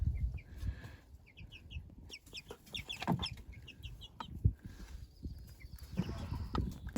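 Farm hens clucking in a winter coop, several birds giving soft repeated clucks and short calls at moderate distance, mixed with low rustling and thumps.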